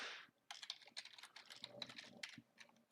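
Password being typed on a computer keyboard: a quick run of close, soft key clicks in an uneven rhythm, quiet and alone.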